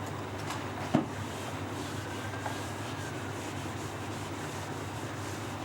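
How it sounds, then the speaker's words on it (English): Someone rubbing a diagram off a drawing board during a vacuum forming demonstration, with a steady, even scrubbing hiss and one sharp knock near the start, close by with no talk. "Let me just rub this out here."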